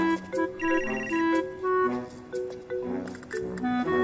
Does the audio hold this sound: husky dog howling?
no